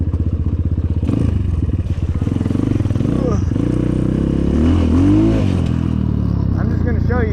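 An Apollo 250rx dirt bike engine revs hard on a road during a top speed run, a steady close buzzing roar that climbs in pitch through the gears while a rider talks over it.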